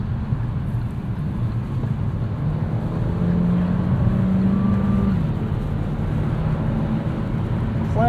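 A 2021 Kia Seltos S Turbo AWD accelerates to pass, its engine note rising under a steady, loud roar of road and tyre noise heard from inside the cabin.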